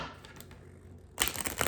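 Tarot cards are shuffled close by, beginning as soft scattered rustling and breaking into a louder, dense run of riffling card flicks near the end.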